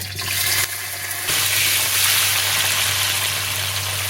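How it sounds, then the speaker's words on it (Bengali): Potatoes frying in hot white oil during village-style cooking, a steady broadband sizzle that swells louder after a brief jump early on and continues close and unbroken, with a low hum beneath. "তেলটা গরম হয়ে গেছে এবার আমি আলুগুলো দিয়ে দিচ্ছি"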